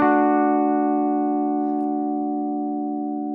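Electric guitar through an FM9 modeler with pitch block and analog sustainer compression, one heavily compressed chord holding steady with very slow decay, alone and without talk.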